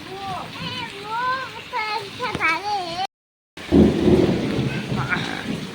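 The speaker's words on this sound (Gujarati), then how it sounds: "જો આવ્યો કડાકો" Thunder crashes during a heavy rainstorm, a loud broadband rumble that follows a brief silence, with steady rain beneath it; a voice talks just before the clap.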